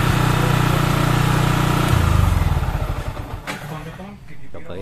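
A Yamaha Vixion motorcycle engine idles steadily close by, its even putter loosening and wavering toward the end.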